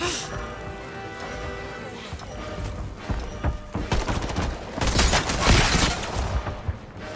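Gunfire in a first-person shooter game, rapid volleys and thuds building toward dense bursts near the end, under a voice talking over the action.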